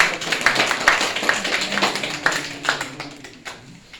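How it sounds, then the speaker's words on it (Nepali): Scattered hand claps from an audience at a community leadership development program, irregular and fairly light, with a few louder claps standing out over a low murmur. "ताली बजाइदिनु होला।"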